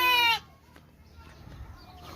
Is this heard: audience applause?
no